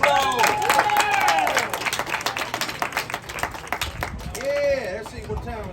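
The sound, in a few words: applause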